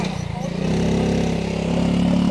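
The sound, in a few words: motorcycle riding up steep stairs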